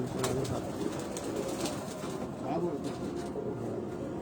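Pigeons in a loft belonging to a Pakistani racing pigeon team coo steadily against a busy background, with brief flutters of wings and soft calls mixed throughout.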